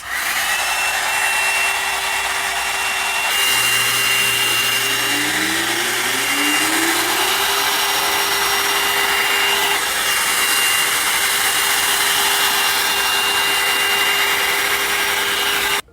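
A L'ange Le Volume 75mm hot brush dryer runs on its high setting while drying hair, a loud continuous airy roar held close for the whole stretch, with faint brushing shifts in tone partway through.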